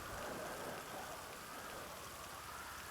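Steady rain falls in a GTA V roleplay world, a constant close hiss of drops spattering on surfaces. It is fairly faint and unbroken, with no speech over it.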